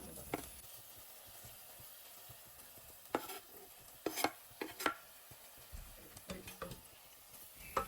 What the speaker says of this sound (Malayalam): ഇനി ഇതിലേക്ക് ഇതാ ചെറുതായിട്ട് കട്ട് ചെയ്ത തക്കാളിയും കൂടി ചേർത്ത് നന്നായിട്ട് വഴറ്റിയെടുക്കണം